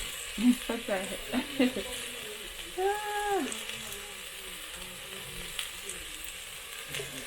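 Beef stew with hoho is stirred in a pot over a steady, faint sizzle, with a few close scraping and knocking strokes early on and a short tonal squeak partway through.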